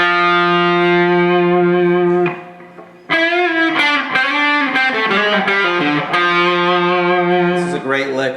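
A distorted electric guitar holds a sustained note, then plays a slow lick with bends and echoey, effects-laden tone.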